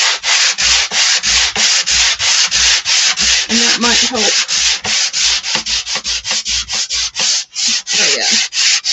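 Wooden faux pallet sign being hand-sanded, with steady rhythmic back-and-forth rasping strokes, loud and close, running continuously, with a brief spoken remark partway through.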